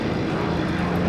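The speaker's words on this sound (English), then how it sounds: "So the arrival then of the Hurricane, and we have the Piper Cub just" Propeller aircraft engines at Duxford, a Hawker Hurricane Mk. XII fighter and a Piper Cub, drone steadily as a continuous, moderately loud engine rumble with no voices.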